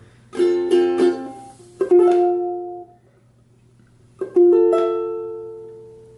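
Ukulele plays the chord part of a song in two short bursts of strummed chords with a pause between, each ending in a ringing, decaying chord, close and clear.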